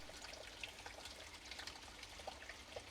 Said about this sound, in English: you can fill the saucepan with water